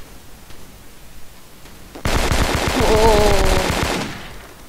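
Rapid automatic gunfire from the shooter game Kuboom bursts in loud and dense after a quiet stretch, a sustained volley of shots lasting about two seconds before tapering off, with a faint voice underneath.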